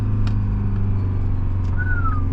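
A thin, high turbocharger whistle from a Garrett turbo on a Detroit 4-53T diesel rises then slowly falls over a loud, steady engine drone, appearing briefly near the end.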